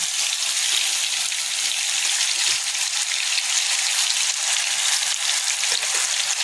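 Ground masala with green chili and tomato hitting hot oil for a spring onion bhaji, a loud, dense, continuous sizzle that holds steady and close throughout.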